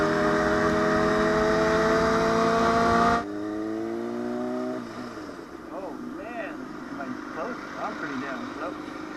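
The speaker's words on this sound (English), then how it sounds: "Man, that bike is loud" A loud motorcycle engine runs with a strong harmonic drone that drops in pitch and cuts off after about three seconds, leaving a quieter low idle while people talk.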